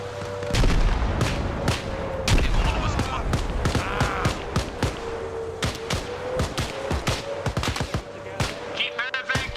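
Arma Reforger battlefield with a tank among the combat, loud booming cannon-like blasts and sharp gunshots in rapid, irregular bursts, voices talking over the fighting.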